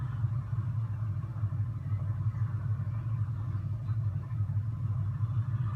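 A Chevy Colorado small pickup crawls along an off-road trail in the Spin Tires game, its mid-pitched engine holding a steady, low, rumbling drone for several seconds with no talking.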